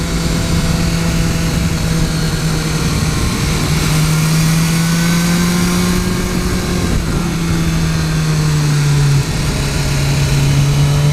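A 2015 BMW S1000R inline-four motorcycle on the road, its engine holding a loud, steady buzzing drone that slowly rises and dips in pitch, with heavy wind rush and no talking.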